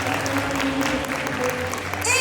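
An audience at a cosplay contest at Vannes Sekai 2023 claps for a contestant, sustained clapping over a low hum of voices and music, with a host's voice coming in near the end.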